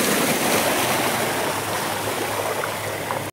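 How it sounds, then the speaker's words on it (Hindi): Tubewell water gushes steadily into a field during pre-sowing irrigation, a loud, continuous broadband rush and gurgle close by with no voices, holding constant before cutting off abruptly at the end. "ट्यूबवेल चालू करके आ गए हैं और दोस्तों इधर पानी आ रहा है"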